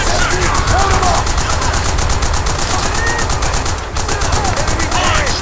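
Sustained automatic machine gun fire in a World War II battle scene from the video game World at War, dense rapid bursts continuing throughout with shouted voices and distant explosions mixed in.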